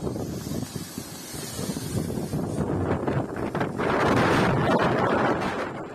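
Strong wind roars and gusts against the microphone at a wildfire near Krousonas on Crete, a heavy continuous rush that swells louder toward the end.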